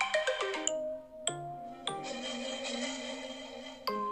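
An iPhone 12 Pro Max plays a melodic ringtone-like tune through its speakers at maximum volume, with loud, clear chiming notes in short phrases.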